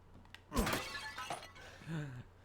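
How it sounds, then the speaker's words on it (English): A stock glass-shatter effect plays as a vase smashes in the video game Resident Evil, one sharp crash followed by tinkling shards scattering, faint and fairly brief. "I love that it just has the stock ass, like, glass breaking sound for the vases"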